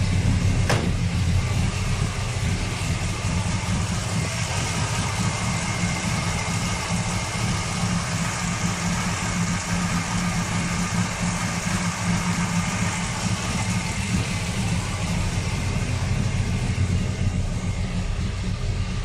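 A Z car engine idles steadily and close, a constant even rumble with a slight uneven throb, running alone for the whole stretch without talk.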